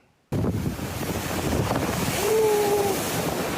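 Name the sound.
huge sea waves crashing on coast during storm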